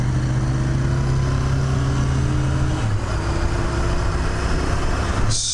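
A car's engine and exhaust drone steadily and loudly throughout, with a deep low rumble that shifts pitch slightly midway and no voices.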